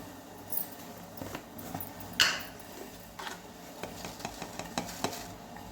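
Dahi vada batter, thick ground lentil paste salted and stirred in a bowl, gives soft scraping and knocking spoon sounds in an irregular rhythm, with one sharper clink partway through, fairly quiet and close with no talking.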